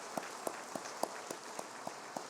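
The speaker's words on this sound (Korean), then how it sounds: "우리 박수로 두 분을 환영하겠습니다" A church congregation welcomes two new members with quiet applause, only a few sparse, evenly spaced claps heard faintly against a low background hush.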